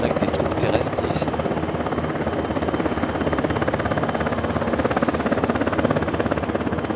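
A military attack helicopter's rotor thrums steadily throughout, a loud continuous beating drone with no pauses, at a flying display.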